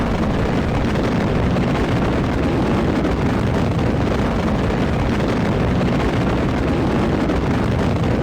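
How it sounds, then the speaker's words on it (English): A rocket with big solid rocket boosters roars through liftoff in Kerbal Space Program, a dense unbroken rumble that holds steady and loud throughout with no talk. "It's just a big tank with big solid rocket boosters"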